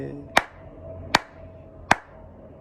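Four sharp, isolated claps spaced evenly about three quarters of a second apart, close and crisp against a quiet room with a faint low hum underneath.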